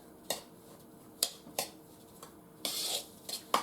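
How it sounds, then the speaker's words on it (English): Almond crisp cookie ingredients are mixed in a bowl, with a utensil giving scattered sharp clinks and brief scrapes against the sides, close and fairly quiet. "So now I'm just going to mix that up"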